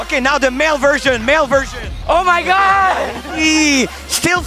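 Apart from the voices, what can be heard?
None of the usual background noises is heard.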